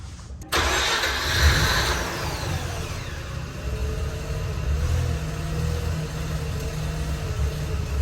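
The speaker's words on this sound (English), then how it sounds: "I'm gonna go start the RX8, see how it sounds" A Mazda RX-8 rotary engine fitted with a long tube intake cranks and catches, then settles into a steady, slightly uneven idle close by, with no voices.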